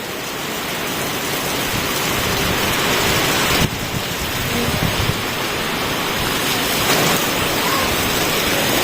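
Heavy rain falls steadily during a storm as a loud, dense, unbroken roar of broadband hiss, with a brief knock or thump near the middle and no clear speech.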